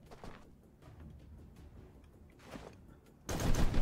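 Gunfire in the tactical video game Shock Tactics: a few scattered shot-like bursts early and midway, then a loud sustained blast of fire near the end.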